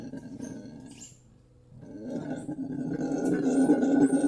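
A red howler monkey roars from the Amazon rainforest canopy, a deep, rasping, reverberant call that fades briefly, then builds again, growing steadily louder and fuller toward the end.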